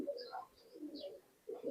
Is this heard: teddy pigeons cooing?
yes